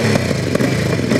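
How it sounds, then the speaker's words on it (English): Honda Africa Twin adventure motorcycle engine running steadily and loudly close by, a continuous throbbing drone with slight revving swells through the short moment, no voices over it. "First up is the Africa Twin."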